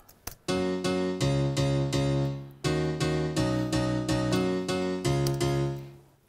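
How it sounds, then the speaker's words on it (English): Korg M1 house piano patch played dry without reverb, a bright stabbing chord pattern of repeated rhythmic hits with sharp attacks and quick decays, loud and alone with no talk. "this is just the M1 synth on the M1 house piano patch here"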